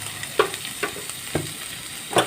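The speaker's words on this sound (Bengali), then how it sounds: "এবার এর মধ্যে আমি এই যে কাঁটা বেছে রাখা মাছটা দিয়ে দিলাম" Boiled, deboned fish frying with onion and chilli in a pan: a steady low sizzle broken by about five soft scraping stirs, fairly close and with no talk.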